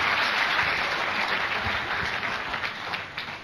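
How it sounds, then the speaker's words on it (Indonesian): An audience claps during a motivational talk, producing continuous applause that stays full and even throughout, then thins slightly toward the end. No one speaks over it. "tepuk tangan buat si motor itu dong."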